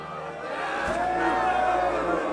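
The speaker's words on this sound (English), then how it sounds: "Cheer for both fighters." Crowd murmuring and cheering at a fencing tournament in the video game Kingdom Come Deliverance 2, a steady dense wash of many voices that swells slightly and holds at a moderate level.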